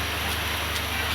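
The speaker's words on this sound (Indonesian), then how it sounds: "Nah hujan sudah mulai turun, kita bisa lihat ke arah luar ya" Steady, even hiss of rain beginning to fall outside a traditional market, a dense continuous wash with a low hum underneath.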